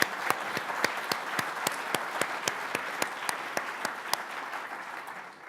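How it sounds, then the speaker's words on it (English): A large audience breaks into sustained applause at an alumni association gathering, with steady, dense clapping that continues evenly at a moderate distance for the whole stretch. "Let's give a round of applause."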